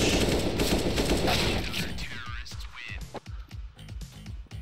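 Rapid gunfire in the Overwatch video game, a fast burst of shots fired at a bomb, loud at first and then breaking into scattered sharp cracks amid game noise.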